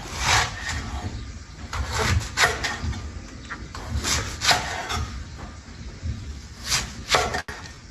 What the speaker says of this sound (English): after you cut it in half, cut them into wedges